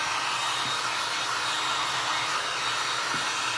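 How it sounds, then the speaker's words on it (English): A hair dryer blows steadily on glass and resin art, a loud continuous close-up whoosh with a broad hiss and no pauses. "now I'm gonna go ahead and hit this with my dryer"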